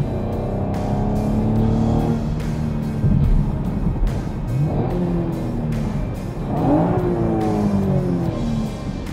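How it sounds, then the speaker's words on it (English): A 2016 Chevrolet Camaro engine roars and revs repeatedly in a Detroit tunnel, rising and falling in pitch with a boomy, echoing quality, loud and close. "we're just gonna have some fun here and let this car kind of roar."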